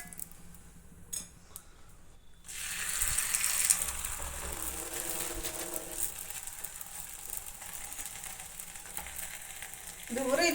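Oil sizzles on a hot stone griddle while kai obbattu, a sweet Ugadi flatbread, cooks over low heat. After a quieter start, a steady, close frying hiss begins and continues to the end.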